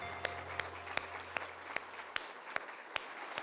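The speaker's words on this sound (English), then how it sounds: "I think that deserves some applause." Slow, evenly spaced single claps, about two or three per second, ring out at a children's summit over a low room hum, sounding sparse and fairly quiet rather than like a full crowd.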